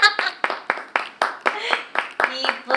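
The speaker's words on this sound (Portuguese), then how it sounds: "Palmas." A small group claps at a theatre accessibility workshop, giving about a dozen distinct, fairly evenly spaced claps in a quiet room, with some vocal sound mixed in.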